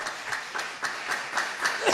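A church congregation claps together in a steady, moderately loud round of applause that pulses briefly and fades without any speech.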